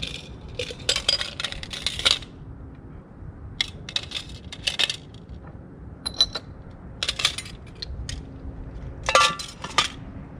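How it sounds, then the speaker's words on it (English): A stirred cocktail is strained into a chilled cocktail glass. Ice clinks and rattles against the strainer and glass in repeated short bursts, close and moderately loud. "Strain into chilled cocktail glass."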